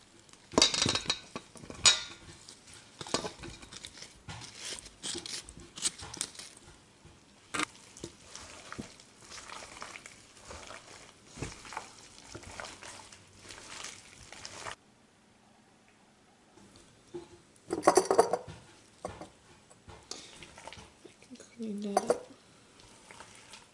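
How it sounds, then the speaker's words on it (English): Radishes being mixed into kimchi seasoning in a bowl, heard as close clattering and clinking of utensils against the dish. The mixing goes on in uneven bursts with quiet pauses, and a voice talks briefly. "I'm going to mix this together and add in the radishes"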